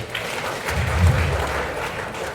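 Audience applause in a hall, a steady wash of clapping that swells briefly near the middle and then holds at a moderate level.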